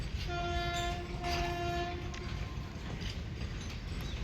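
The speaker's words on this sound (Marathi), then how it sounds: "और एक ट्रेन आया उधर से" A train passes close by with a long horn blast held for about two seconds over the steady rumble and clatter of wagons on the rails.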